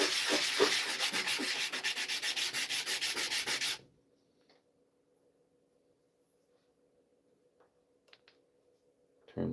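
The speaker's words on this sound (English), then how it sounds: "Now I'm going to take this flat sandpaper I got here. Just get rid of that bandsaw mark." Flat sandpaper rubbed by hand across wood to remove a bandsaw mark in a workshop, a steady rapid rasping for about four seconds, then near silence with faint ticks before a brief return of scraping at the end.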